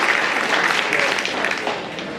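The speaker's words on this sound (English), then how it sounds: "let's give these guys a big round of applause" Dense, steady clapping from a crowd at a county fair hog showmanship event, loud and sustained throughout with no pauses.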